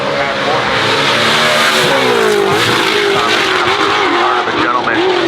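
An RTR drift car driven by James Dean revs hard at the Goodwood Festival of Speed: a loud, continuous engine roar that rises and falls with the throttle, with a voice talking over it.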